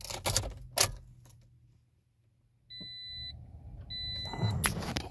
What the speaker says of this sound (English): Put my seatbelt on so it stops beeping at me.